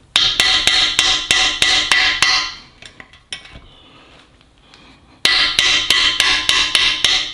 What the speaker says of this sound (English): hold this punch down with my hand and take my hammer on this side while lifting up on the other side